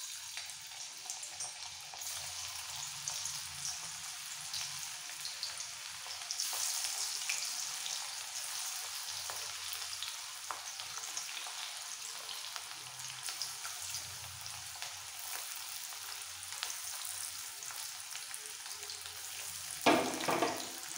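Bitter gourd slices deep frying in hot oil over a medium-low flame: a faint, even crackling sizzle that holds steady with occasional light pops, a brief louder clatter near the end, no talk.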